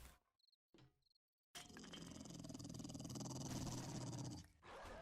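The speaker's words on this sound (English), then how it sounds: "Oof. Dogs. Dangerous, man." Hostile dogs in the survival game 7 Days to Die growl and snarl loudly and continuously at close range, following a couple of short, faint tones.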